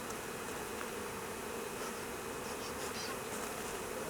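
Honeybees buzz around an open hive during a colony split, a dense steady drone of many insects close by with no talking.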